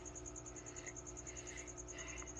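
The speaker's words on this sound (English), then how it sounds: "I'm gonna have to do something about the crickets" Crickets chirp in a fast, steady, evenly pulsed trill at moderate distance, continuous and alone over a faint background hum.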